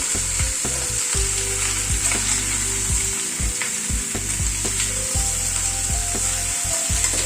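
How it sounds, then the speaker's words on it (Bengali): Pumpkin pieces fry in hot oil with salt and turmeric, a steady loud sizzle broken by repeated scraping strokes of a spatula as they are stirred through the pan, with no voices. "নুন হলুদটা দিয়ে কুমড়োটা মিশিয়ে নিচ্ছি।"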